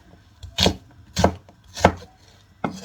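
A knife slicing through food on a cutting board, four sharp, evenly spaced chops about half a second apart with quiet gaps between them, close and clear.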